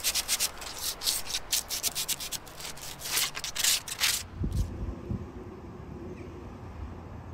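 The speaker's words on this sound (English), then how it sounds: "I need to give it a good... fettling with a bit of sandpaper" Sandpaper rubs hard against a metal ring in quick, rhythmic back-and-forth strokes for about four seconds. Quieter handling noise follows, with no talking.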